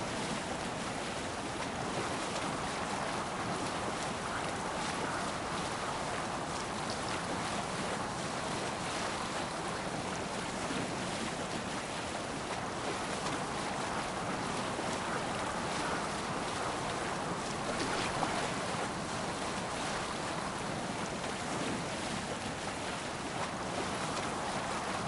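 Viking longship sailing on the open sea in Assassin's Creed Valhalla, a steady, continuous wash of waves and wind rushing past the hull for the whole stretch, with no voices.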